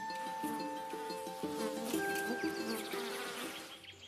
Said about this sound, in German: Da sind die Bienen und eine Hornisse schwirrt heran.